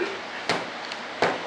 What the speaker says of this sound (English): give this a tap like this, and that just gets it aligned just good